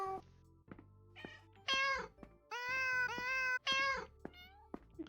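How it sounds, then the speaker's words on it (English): Synthetic cat meows triggered by a meow button in a video game, several loud, bright mewing calls in quick succession over a low game hum. "There's a meow button."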